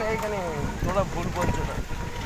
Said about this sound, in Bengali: একটু একটু হাওয়া উঠেছে খুব জোরে